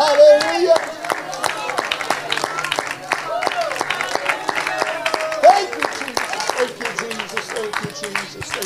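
Church congregation clapping hands in worship, a steady rhythmic beat of claps under a singing or preaching voice that carries throughout.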